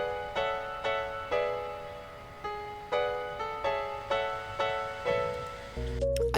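A chilled bossa nova chord progression intended as video game music, with plucked chords struck in a relaxed, syncopated pattern, each decaying quickly, soft and steady, ending on a lower thump.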